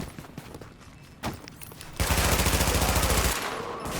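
Automatic gunfire in the video game The Division rattles out in a rapid, loud sustained burst of about a second and a half, following quieter game ambience and a single thump.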